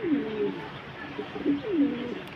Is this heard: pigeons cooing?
yes